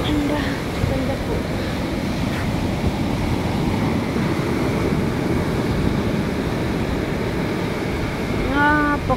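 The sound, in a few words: sea waves on the shore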